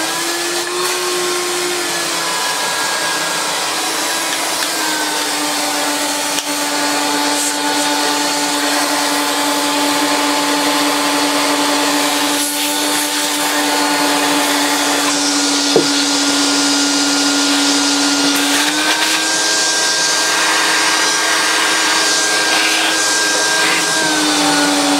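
Turbo Power 1000 bagged vacuum cleaner running on high, a loud, steady motor whine close by that holds for the whole stretch with slight pitch shifts as the suction load changes.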